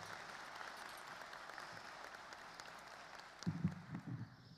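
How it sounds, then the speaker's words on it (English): Applause at a high school graduation ceremony after a student speech, a faint distant wash of clapping that dips near the end, followed by a short burst of voice or microphone sound. "Could we get another round of applause for that marvelous speech by Mr."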